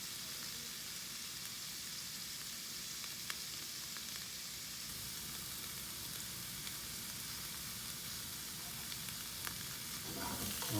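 Rough-cut green onions and carrot stir-fry in a hot pan for vegetarian pad thai, a steady close sizzle with faint scraping stirs running throughout.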